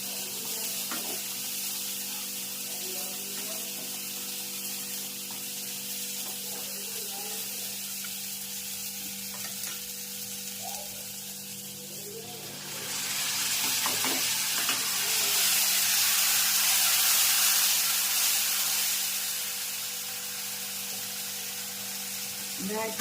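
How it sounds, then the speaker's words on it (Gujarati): Urad dal, Kathiawadi style, cooks in a pan with a steady frying sizzle that swells louder partway through, alongside faint stirring. "સરસ મજાની દાળ બની રહી છે અડદની, કાઠિયાવાડી દાળ"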